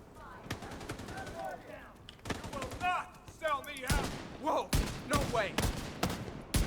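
Gunfire in a video game, with sharp, loud shots spread across the clip in irregular single cracks and short clusters, heard under and between a man's speech.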